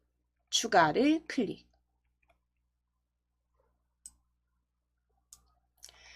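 A voice speaks briefly, then a few soft, isolated mouse clicks follow several seconds apart in an otherwise quiet room.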